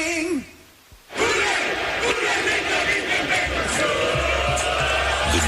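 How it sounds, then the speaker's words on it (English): Tailgating football crowd at a Bengals wildcard playoff game roaring and chanting together, a loud sustained wall of voices that rises after a brief quiet start and carries on steadily. "The chant ripples through the tailgating crowd"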